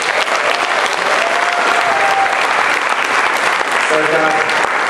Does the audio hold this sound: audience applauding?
yes